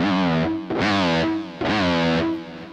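Electric guitar with distortion, whammy bar yanked up fast then pushed down, twice in a row: sustained chords that swoop upward in pitch and then sag back down, loud and close, no talk.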